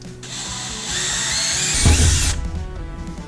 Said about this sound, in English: let's drill a hole for the mount of the relay